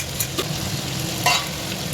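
Potatoes added to frying chicken curry, a steady hiss of sizzling with a couple of brief stirring scrapes, close and moderately loud.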